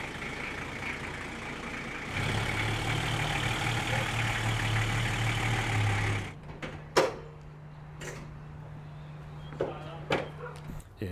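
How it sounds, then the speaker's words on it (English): A vehicle engine, mid-repair for an oil pressure fault, runs with a steady low hum and a sustained drone at close range, then drops to a quieter idle broken by a few brief knocks and clatters. "We need to take the vehicle out, turn it around and face it uphill."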